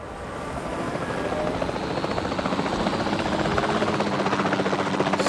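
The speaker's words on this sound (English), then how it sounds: "Time to ride my chopper." Helicopter in Jurassic World Evolution 2, a loud close rotor chop with rapid regular pulsing over a broad engine roar that builds slightly and holds steady throughout, no speech.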